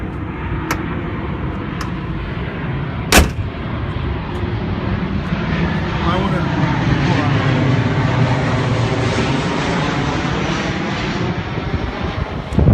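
An airplane passes overhead on the flight path into John Wayne Airport, a loud, steady jet roar that swells and holds for several seconds, with a brief sharp knock near the start.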